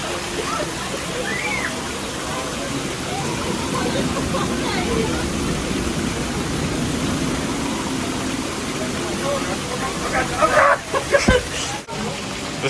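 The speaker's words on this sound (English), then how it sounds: "There's water everywhere." Water sprays and rushes steadily at a theme park attraction, a constant broadband wash that runs close and loud, with brief bursts of voices and splashes near the end.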